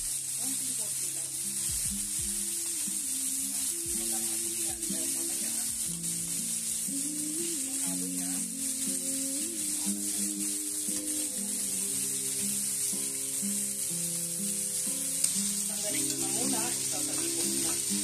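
Seafood fries for paella in a hot pan, a steady bright sizzle running throughout, close and continuous, with occasional stirring scrapes and a faint hum of background sounds underneath.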